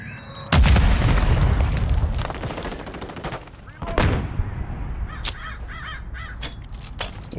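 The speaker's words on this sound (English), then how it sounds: "are you shooting up in the air?" Gunfire in Modern Warfare 3: a loud, sustained burst of automatic fire opens the clip and trails off, followed by another burst and scattered single shots with game effects mixed in.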